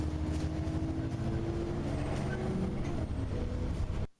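A bus gearbox downshifting into first gear, heard as a low steady engine and transmission drone with a faint whine rising over it, continuous and fairly quiet until it cuts off.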